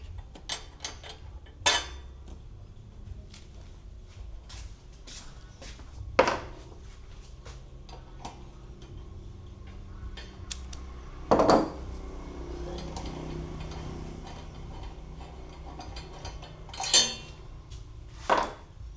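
A size 16 wrench loosens bolts on a Lifan CG125 motorcycle, with sharp, intermittent metallic clinks and clanks over a quiet background.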